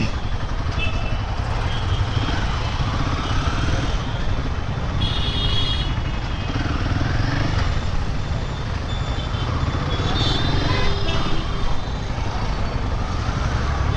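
A new motorcycle filters through dense traffic, its engine a steady drone mixed with surrounding vehicle noise, occasional beeps and brief high tones, continuous throughout with no talking.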